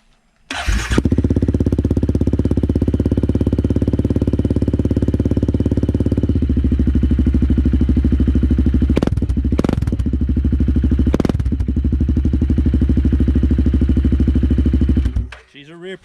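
A Suzuki Kingquad 400 ATV with an HMF exhaust cranks and fires, then settles into a loud, close, throbbing idle with a couple of brief revs before shutting off near the end.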